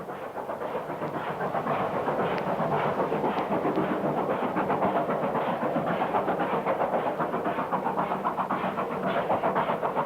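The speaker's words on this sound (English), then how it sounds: "This eastbound train is 7P80, the 2:10 p.m. wire dock to Burnley empties" An eastbound freight train of empty wagons rumbles past at Pleasington, a steady rolling roar with rhythmic clattering from the wheels that carries on throughout at moderate distance.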